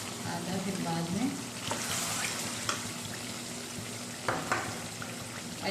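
Chicken and yogurt frying in a karahi, a steady sizzle with a few spoon scrapes and faint background sounds.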